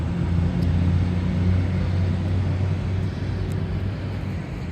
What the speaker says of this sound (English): Waiting for that big, annoying, loud fucking truck to move away.